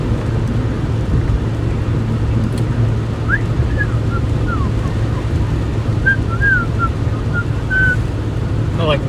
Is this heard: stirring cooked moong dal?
no